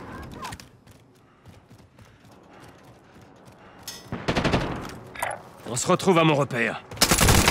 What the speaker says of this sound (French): Je me prends des balles de l'ennemi.